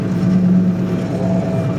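An MTZ-1221 tractor pulling a 6-metre cultivator across small plots runs with a loud, steady engine drone, straining slightly as it heats up.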